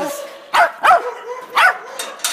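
An American-bred Shetland sheepdog female barks three times in quick sharp bursts at close range, with softer whines and yips in between.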